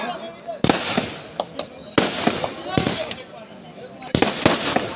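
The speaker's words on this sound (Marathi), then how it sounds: "पहिलं सत्र समाप्त होईपर्यंत फटाके चालूच राहणार" Firecrackers burst in several loud, sharp cracks at a kabaddi tournament final, some spaced apart and others in quick clusters, with a crowd murmuring and voices in the background.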